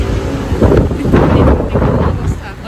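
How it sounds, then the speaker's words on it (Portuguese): Strong wind buffeting the microphone outdoors in Madrid, loud rumbling gusts rising and falling throughout. "Nossa, olha o vento."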